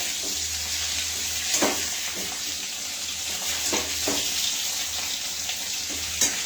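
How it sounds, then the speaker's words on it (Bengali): Continuous hissing sizzle of potatoes frying in oil, close and steady, with a few soft stirring scrapes and occasional pops. "দেখুন এই আলুগুলো লাল করে বেশ ভাজা হয়ে যাচ্ছে।"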